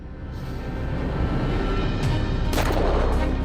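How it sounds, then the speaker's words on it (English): A .454 revolver fires into an 8-inch thick block of ice, one loud sharp blast over a steady rumble of wind or handling noise. "Gotta do the 454 again just because I love the explosion it makes"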